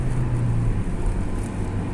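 A Daewoo Nexia 2 with a 1.6 engine drives along, its steady low engine drone and road rumble filling the cabin continuously and loudly, with no talk over it.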